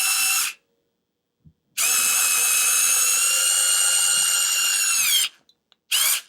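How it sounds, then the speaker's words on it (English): A GoGonova cordless screwdriver driving a screw through a board, its motor whirring loud and close in a short burst, then a long steady run of about three and a half seconds that dips in pitch under load, then a brief final burst. "I'm going to screw this in now all the way through."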